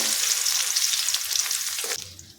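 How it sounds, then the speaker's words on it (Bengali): Half a teaspoon of grated garlic fries in oil with a bay leaf and cumin tempering for soya pulao, giving a loud, steady close-up sizzle that fades sharply near the end. "এখন রসুনটা লাল করে ভেজে নেব।"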